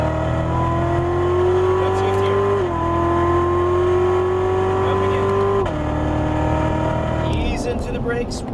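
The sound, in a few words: Corvette Z06 accelerating on race track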